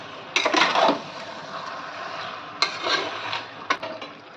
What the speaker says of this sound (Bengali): ভালো করে নেড়ে নেড়ে ওপর নিচ করে কষিয়ে নিতে হবে।